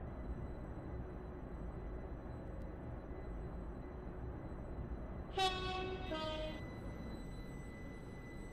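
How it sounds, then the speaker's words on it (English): Train in the SCR video game rolling steadily into a platform at Stepford Central, ending with a loud two-tone horn blast near the end; no talk. "The train now approaching Platform 4 terminates here."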